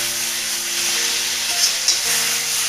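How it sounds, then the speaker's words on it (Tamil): Green chillies sautéing in an oiled pan for tomato curd pachadi, a loud steady close sizzle and hiss with faint stirring scrapes, no voices. "இது நல்லா வதங்கி இப்படி சுருண்டு வரணும்."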